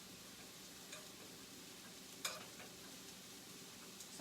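Steady, fine crackling sizzle of teriyaki tempeh frying in a pan, with a couple of brief clinks and a sharper tap midway; no voices.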